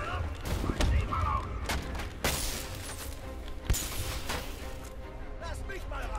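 Bursts of gunfire and heavy impacts in the Batman: Arkham Knight video game, several sharp cracks and booms scattered through a dense, continuous din of game action, with people talking over it.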